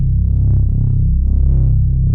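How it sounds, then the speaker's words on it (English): A deep synth bass patch from Serum for a trap beat holds a low, sustained, buzzing tone with a slight wobble, loud and alone for about two seconds. "I use a bass in Serum that's very similar to this. It sounds like this."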